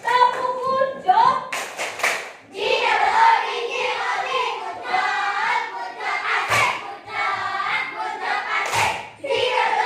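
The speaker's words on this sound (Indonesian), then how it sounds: "Kita coba lagi tepuk good job untuk kita semua" A group of children in a classroom claps in rhythm and chants an Indonesian 'tepuk good job' clapping chant together, with bursts of sharp claps and loud shouted syllables between voices.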